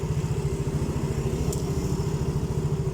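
A Yamaha Mio J motorcycle engine idles steadily up close at about 1600 rpm, a low, even, pulsing chug with no voices.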